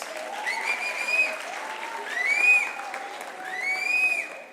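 At the official opening of the National Arts Festival 2022, a crowd applauds the honorable speaker, a steady bed of clapping topped by three high, swooping vocal cries that rise and fall in turn.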